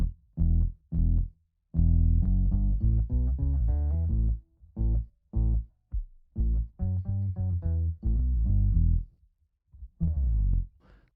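Guitar blended with a MIDI guitar octave-down effect through an AUv3 plugin in Loopy Pro, thick low plucked notes in short phrases with gaps, close and loud, no voices present.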